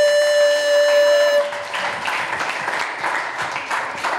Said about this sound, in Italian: applauso a Omiba immediatamente